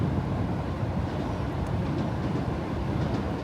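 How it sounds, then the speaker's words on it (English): A train rumbles across a rail bridge overhead, heard from a ship passing beneath as a steady, dense low roar that stays constant throughout without voices. "Oh, there's a train."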